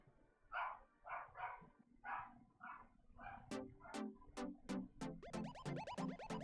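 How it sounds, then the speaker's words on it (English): Dog barking indoors, a series of short yips and barks at first, then quicker, sharper repeated barks, moderately close and fairly quiet, with no talk. "My dog is going crazy"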